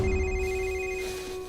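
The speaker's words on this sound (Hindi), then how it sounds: "ये ले, थारे बाप ने फोन मिला दिया।" A telephone ringtone for an incoming call sounds as a steady electronic tone, clear and moderately loud, with no voices over it.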